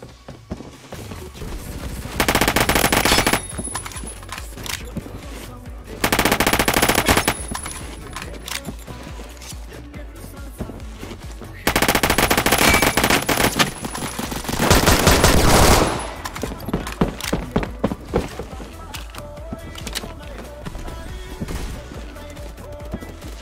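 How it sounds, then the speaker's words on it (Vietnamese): Gunfire in the Roblox game Phantom Forces: several loud bursts of rapid automatic fire, each a few seconds long, separated by quieter stretches of scattered shots and game noise. "Cái súng này cũng không phải là mạnh đâu."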